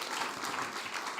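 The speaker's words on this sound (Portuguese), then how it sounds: "E palmas para mim." A live audience at a political talk and debate festival breaks into brief, faint applause, a soft continuous patter of hands heard from a distance for just over a second.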